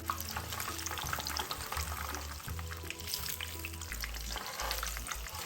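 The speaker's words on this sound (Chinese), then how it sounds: "再将它翻面继续油炸，一直油炸至豆腐干两面都金黄色" Dried tofu deep-frying in hot oil gives a steady, close sizzle and crackle with a low hum underneath, continuous throughout.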